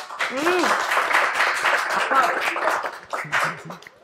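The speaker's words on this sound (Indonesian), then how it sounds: "Boleh tepuk tangan untuk Yafa deh." Brief applause from a small group at an Indonesian talk show on children's healthy snacks, with lively voices talking and laughing over and through the clapping for most of the stretch.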